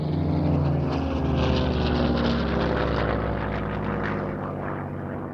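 Aerobatic airshow airplane roaring steadily overhead, a loud sustained propeller engine drone with shifting harmonics that slowly fades slightly as it passes, no voices.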